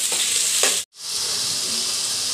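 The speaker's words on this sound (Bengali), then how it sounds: "আলু ভাজছে" Potatoes fry in a pan in a home kitchen, a loud continuous sizzle with a couple of stirring scrapes and a brief cut-out in the middle.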